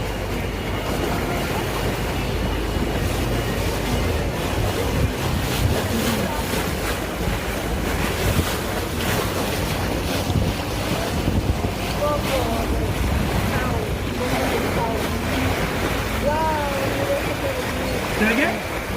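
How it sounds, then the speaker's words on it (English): An electric tour boat moves along the San Antonio River Riverwalk: steady water wash and heavy wind buffeting fill the scene, with faint voices in the background. "These are electrical boats."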